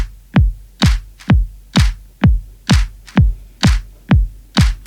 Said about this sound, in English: So that means a kick on every downbeat and a clap here on every backbeat.